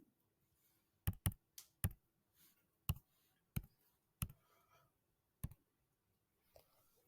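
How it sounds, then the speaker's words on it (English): Calculator keys are pressed one at a time in an irregular run of about ten crisp, close plastic clicks, quiet and isolated in an otherwise silent room with no talk. "I typed it in exactly the way it's written there."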